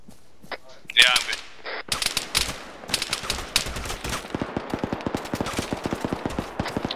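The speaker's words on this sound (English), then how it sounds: "At the moment he stopped, machine gun fire incoming." Bursts of machine gun fire in Arma, loud rapid cracks coming in quick strings and repeated volleys, with a voice heard briefly near the start.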